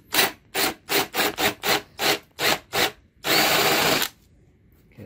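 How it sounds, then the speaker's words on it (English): A drill countersinks a hole in wood for a cabinet bolt, cutting in about nine short bursts before one longer steady grind, loud and close with no talking. "So I'm gonna countersink this a little bit."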